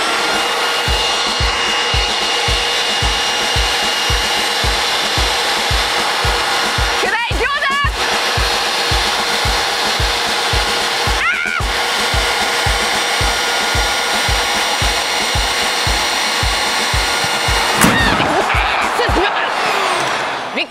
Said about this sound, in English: You need a leaf blower, switch it on.